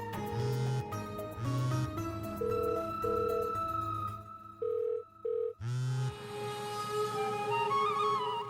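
An unanswered phone call rings out as a series of electronic ringing tones in short repeated bursts, with pauses between them, over a steady tonal background and with no voices.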